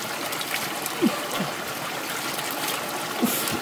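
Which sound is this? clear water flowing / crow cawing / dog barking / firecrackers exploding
clear water flowing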